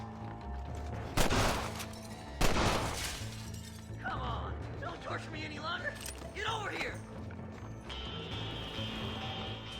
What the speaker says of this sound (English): I like shooting the guns out of their hands.